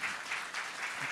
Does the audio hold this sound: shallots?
no